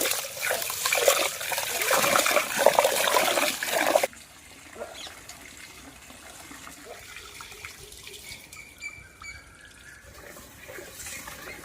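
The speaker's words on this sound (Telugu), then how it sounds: "బాస్మతి రైస్ని శుభ్రంగా కడుక్కున్నాం" Basmati rice being washed in water for tomato rice sloshes and splashes loudly for about four seconds, then settles into soft, quiet trickling and dripping.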